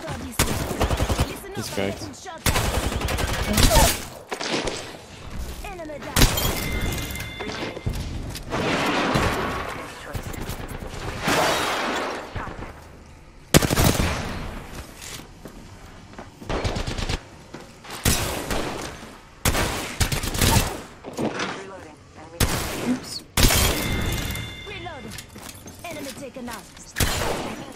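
Gunfire in a shooter video game, repeated loud bursts of rapid automatic fire with gaps between volleys and scattered impact thuds, a voice talking briefly over the action.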